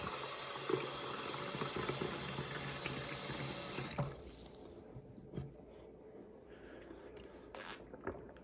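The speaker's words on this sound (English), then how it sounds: "gotta fill the cup of water." A kitchen tap runs loudly as water fills a cup, a steady rushing stream for about four seconds before it cuts off, followed by quieter drips and faint handling sounds.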